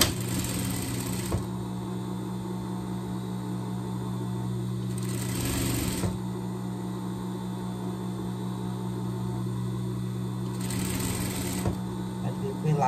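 An electric sewing machine stitches fabric for a pet dress, whirring steadily and close by in a continuous run with a few brief high hissing bursts.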